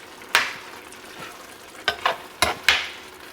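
Pig tails are stirred into rice in a pot, with a few close, uneven scraping knocks and clatters over a quiet simmer.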